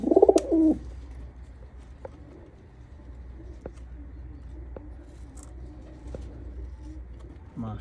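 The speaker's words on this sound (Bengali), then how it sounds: "وصل الزاجل وصل الزاجل وصل فوق ياخذ لفه" Homing pigeons in an Omani loft give a short, close burst of cooing at the start, then faint sporadic sounds over a low background hum. Voices murmur quietly.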